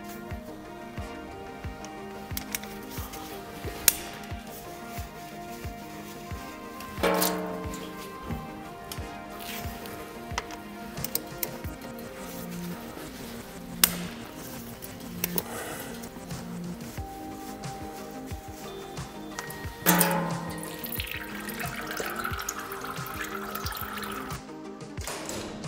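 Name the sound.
oil draining from Getrag automatic gearbox drain plugs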